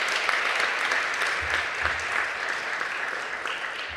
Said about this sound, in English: How about another round of applause for such an incredible class?